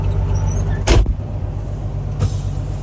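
A Steiger tractor backs up, its engine a steady low rumble throughout, with two short hissing air bursts breaking in partway through.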